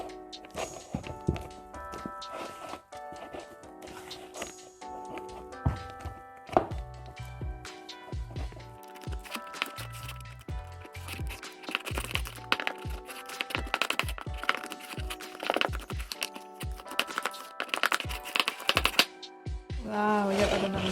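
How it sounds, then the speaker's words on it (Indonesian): A utensil whisks pancake batter in a bowl until smooth, giving rapid, irregular clinking and scraping strokes in uneven bursts, close and fairly loud, with no talking. "Lalu ini kita aduk sampai rata."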